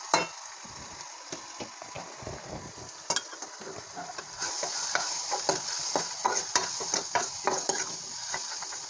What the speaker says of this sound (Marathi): त्यानंतर आपण ह्या ठिकाणी मसाले सर्व ॲड करून परतून घेऊया